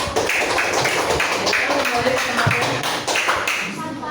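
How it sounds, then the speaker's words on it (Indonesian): Classroom applause for a student group after their presentation: many hands clapping in a dense, steady round that fills the whole stretch, fairly loud and close, with a few voices mixed in. "Kita kasih aplaus untuk kelompok 1"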